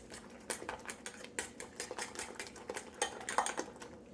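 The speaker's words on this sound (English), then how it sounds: "And to whisk everything nicely." Egg muffin mixture with breadcrumbs whisked in a bowl, giving quick, irregular tapping clinks of a utensil against the sides, close but fairly soft, with no talking.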